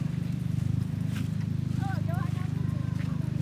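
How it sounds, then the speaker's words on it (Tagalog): Horse hooves clip-clop in a steady walking rhythm on a mountain camping trip, heard under a constant low engine-like drone while people talk briefly nearby. "Oh, may kabayo na."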